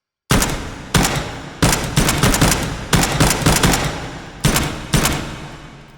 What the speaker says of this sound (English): You'll notice as I'm firing